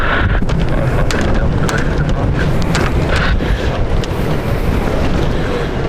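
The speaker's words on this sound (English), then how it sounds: "Wow, this is really windy again." Loud, constant wind roars and buffets the microphone without a break at London City Airport, a broad rushing noise filling the whole stretch.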